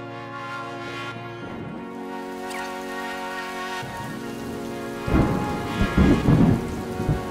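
A steady heavy rain pours down during a thunderstorm at Pine Creek, Colorado, with deep rolling thunder rumbling in the middle and swelling loudly near the end.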